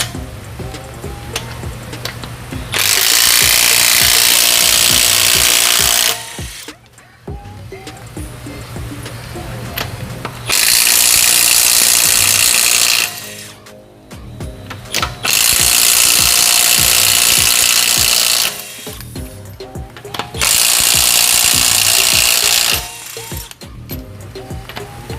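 A Snap-on 18V mid torque impact wrench removes car wheel nuts, firing in four loud hammering bursts of about four seconds each, separated by short gaps with quieter handling noise.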